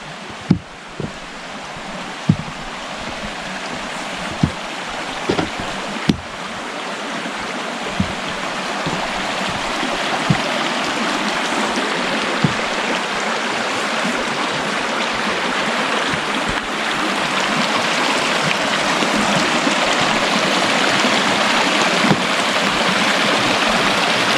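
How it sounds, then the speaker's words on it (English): A small creek in Minnesota's George H. Crosby Manitou State Park babbles and trickles steadily, a broad continuous wash of flowing water close by with occasional brief splashes and clicks, no voices. "Look at this beautiful little creek."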